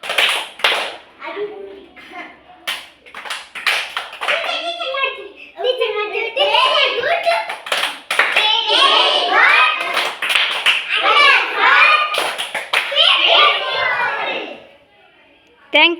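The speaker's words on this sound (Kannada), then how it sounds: "ಅಭಿನಂದನ ಚಪ್ಪಾಳೆ" A group of schoolchildren performs a congratulations clap, a long rhythmic sequence of sharp claps and taps interwoven with their sung chanting, close and energetic before dropping away at the end.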